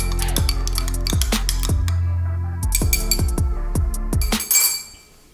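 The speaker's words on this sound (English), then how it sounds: "So we always try to give our espresso a stir before we taste it." A spoon clinks repeatedly against the inside of a ceramic cup as it stirs a freshly pulled espresso. The sharp, close taps come in an irregular rhythm over several seconds, then a brief louder rattle ends it.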